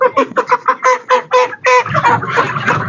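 Broiler chickens on a poultry farm give a dense chorus of rhythmic clucking calls that blur into a loud, busy murmur of many birds close by.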